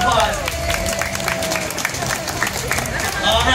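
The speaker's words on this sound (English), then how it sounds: "Give yourself a round of applause." Lively clapping and crowd noise from an audience applauding themselves during a Sesame Street gathering, steady and fairly loud with chatter and voices mixed in.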